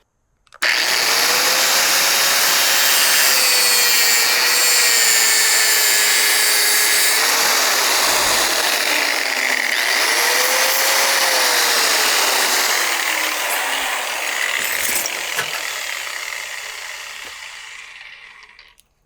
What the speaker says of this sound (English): And then we cut it with an abrasive disc.